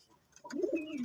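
A pigeon gives one short, low, close coo in a coop with other pigeons, coming after a quiet moment.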